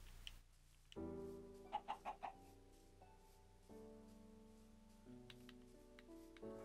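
A chicken in the video game Minecraft lets out a quick run of about four soft clucks over steady background game music, fairly close, with no talking.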